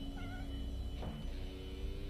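In the Deponia adventure game, a cat gives a short meow lasting well under a second amid a soft, steady background hum, faint rather than loud.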